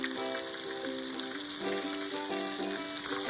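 Loud, steady sizzling and crackling of chicken cartilage deep-frying in hot oil, with a constant bubbling hiss throughout.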